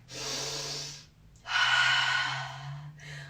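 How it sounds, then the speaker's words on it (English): One long, airy inhale followed by a slower, fuller exhale during a kids yoga session, close and clear with no talking. "let's take a deep breath together"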